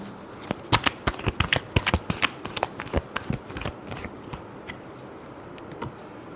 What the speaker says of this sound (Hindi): चलिए देखते हैं पर्सन के लिए लास्ट शफल